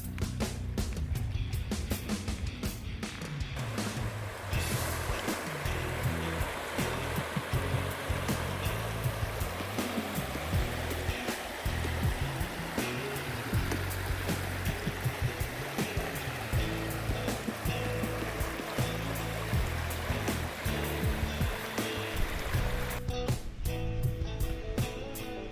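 The Gregory River near Leichhardt Falls flows in a steady, dense wash of rushing water. It stays loud and constant throughout, with no voices.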